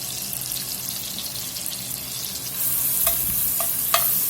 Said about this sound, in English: let that onion cook here in that bacon grease just a minute or two